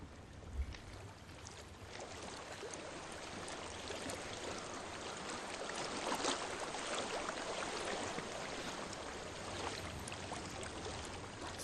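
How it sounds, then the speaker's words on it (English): A flowing stream in the dark fantasy game Hellblade: Senua's Sacrifice, a continuous faint wash of trickling, rushing water heard alone at low volume with a steady texture. "I hear water. Go to it."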